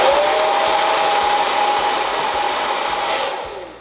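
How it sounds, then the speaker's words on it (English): A hair dryer fitted with a diffuser runs steadily on wavy, curly hair, giving a loud, close, continuous whooshing blow with a faint whine that fades slightly near the end. "I'm gonna lift my hair, put my hair in the diffuser,"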